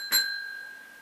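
A single bright bell ding rings out as a notification sound, struck once and then left to decay steadily, clean and alone.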